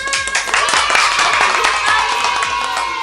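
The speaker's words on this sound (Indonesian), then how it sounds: "tepuk tangan" A crowd claps and cheers steadily throughout a dance performance, dense broadband applause with whistles and shouts rising over a fading electronic tone, continuing steadily to the end.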